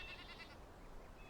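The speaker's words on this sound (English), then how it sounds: "That's what those sheep sound like, or goats, or whatever they are." Sheep or goats bleating in the video game Enshrouded, a short, faint wavering bleat or two at a farm, quiet and alone.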